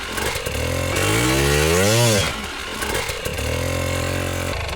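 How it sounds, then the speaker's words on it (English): Dirt bike engine revving hard in a single sustained climb that peaks and drops back, then settles to a steady idle, loud and close with no talk. "So I'm going to rev it up a little bit, and I'm going to progressively start rolling forward and then snap the clutch."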